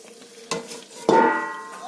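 Chicken curry being stirred in a pan, with two or three quick scraping strokes over a soft sizzle, heard close by and without talk.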